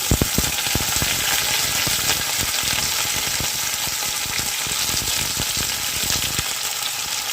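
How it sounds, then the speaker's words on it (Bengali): Potatoes and two kinds of beans hitting a hot oil tempering of black cumin seeds in a Bengali kitchen, producing a loud, dense, continuous frying hiss close up, with scattered crackles and pops throughout. "এবারে আমি দিয়ে দেবো আলু আর এই দু ধরনের শিমগুলো দিয়ে দিচ্ছি"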